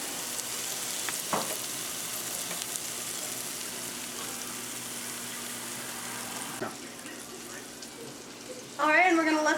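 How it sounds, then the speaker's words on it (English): Jalapeno popper burger patties sizzle steadily in a hot pan, a continuous close frying hiss with occasional pops and stirring, and a brief metallic clatter near the end. "If you're not sizzling with that, it's not hot enough."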